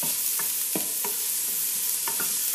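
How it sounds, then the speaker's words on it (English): Onions sizzle in hot oil in a pan, a dense, constant frying hiss close to the listener, punctuated by several quick scraping stirs of a utensil; no voices. "Go ahead and add my onions to the oil. Here we go. And just stir those up."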